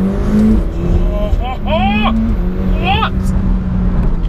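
The McLaren 720S's 4-litre twin-turbo engine surges through rising revs in repeated sweeping pulls, loud and close inside the cabin, with someone speaking over it.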